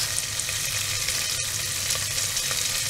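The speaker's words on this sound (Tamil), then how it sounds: "வச்சுட்டு அதுக்கப்புறம் ஃப்ரை பண்ணி எடுத்து ஒரு பிளேட்டில் வச்சுக்கோங்க." Paneer cubes frying in a pan, a dense continuous sizzle with crackling spatter at close range, steady and loud, without any talking.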